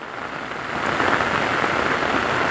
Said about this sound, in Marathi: चिपळूण तालुक्यातले तिवले गंगेच्या वाडी या भागात पाऊस भरपूर प्रमाणात आहे